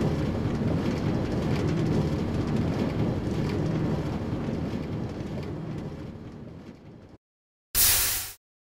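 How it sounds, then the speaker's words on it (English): A Minecraft subway train rumbles steadily along the track, departing from a platform, a broad continuous roar that fades away and cuts to silence, followed by a short burst of hissing noise. "The train at platform D is now departing."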